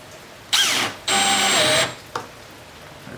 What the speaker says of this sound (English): we're going to go ahead and put a screw in it